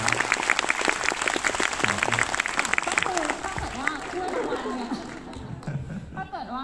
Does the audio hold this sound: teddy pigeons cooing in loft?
no